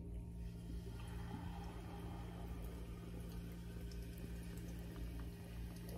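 A steady stream of liquid pours continuously for several seconds, close and fairly quiet, with a low gurgling hum underneath.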